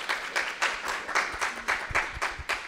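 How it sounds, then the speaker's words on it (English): An audience at a science communication event gives a short round of applause, a sparse string of evenly spaced claps recorded close, rhythmic and steady throughout. "So let's have a round of applause for Roxanne"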